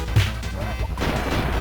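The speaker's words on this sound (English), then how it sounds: "But I smashed them with hammer" In Kirby Super Star, a hammer smashes into enemies: one loud, sharp impact lands near the start, followed by a rumbling crash and jumbled game effects.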